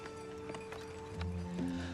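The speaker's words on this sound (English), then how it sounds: "We have a horse-drawn sleigh." Horse hooves clip-clopping steadily as it pulls a horse-drawn sleigh through snow, close and moderately loud, with a low steady hum underneath and no talking.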